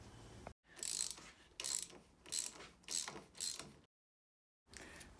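Ratchet wrench loosening a handlebar clamp bolt on a KTM Duke motorcycle: five quick bursts of close, rapid clicking in a steady rhythm, a silent gap, then one more burst starting.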